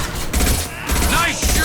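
Bursts of gunfire from a firefight in the video game Mass Effect 2, several loud rapid volleys in quick succession that nearly fill the short stretch.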